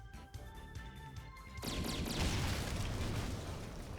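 Gunshot sound effects in an audio drama burst in as a loud, sustained crash of noise that cuts abruptly across a quieter tonal background and stays dense to the end.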